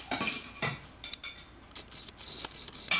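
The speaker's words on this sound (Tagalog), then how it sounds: "akin na po liligpitin ang inyong mga plato at mga kubyertos." Plates and cutlery being cleared from a dining table, a series of close, bright clinks and chinks of metal on ceramic, irregular and separated by short pauses.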